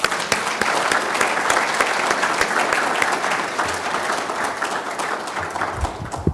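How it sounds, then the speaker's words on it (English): An audience at an international judicial conference applauds the court staff, a long steady roar of many hands clapping with crisp individual claps up close, easing slightly toward the end. "they deserve a round of applause."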